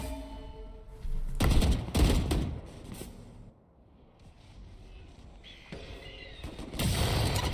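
Bursts of rapid gunfire from a Valorant esports match, loud clustered volleys at the start and again near the end with a quieter lull between, no talk over them.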